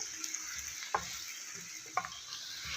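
Spices and onions stir-fried in a pan for karaly pyaz, a steady close sizzle broken by two distinct scraping stirs of the spoon.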